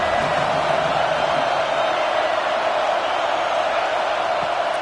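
A football stadium crowd roars in a dense, steady wash of noise that stays loud and unbroken throughout, with no distinct single voices standing out.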